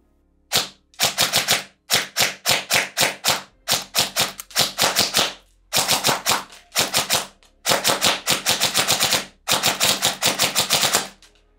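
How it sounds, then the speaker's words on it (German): A G&G SGR556 airsoft S-AEG with precocking active fires 6mm BBs in rapid bursts and single shots, crisp and close with short silent pauses between strings. "Jetzt müssen wir erstmal ein paar Schuss abgeben."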